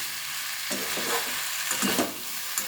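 Pumpkin curry sizzles in a frying pan while a spoon stirs it, giving soft scraping strokes over a constant close hiss.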